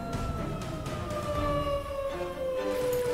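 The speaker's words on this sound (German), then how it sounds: "die Tornado-Sirene" Tornado siren wailing during a storm chase, its rising-and-falling tone steady and fairly distant, heard over a rumbling background of wind or vehicle noise.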